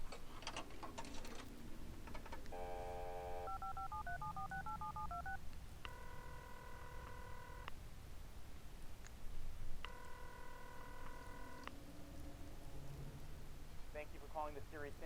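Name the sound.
phone booth telephone in Serious Sam 3 video game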